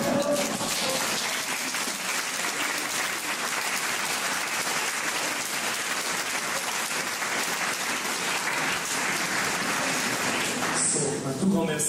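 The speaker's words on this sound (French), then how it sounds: "le public de Lunéville, on applaudit" Sustained applause from the audience at a choral concert festival in Lunéville, a dense, steady clapping crowd lasting over ten seconds before fading into talk.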